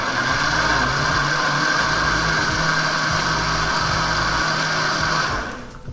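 A blender runs loud and steady, blending peppers into hemp milk with a continuous whirring drone, then winds down near the end.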